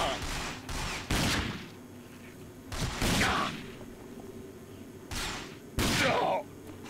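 Several bursts of enemy gunfire in the shooter RAGE, coming in short clustered volleys separated by quieter gaps, fairly close and sharp, with a voice talking faintly in between.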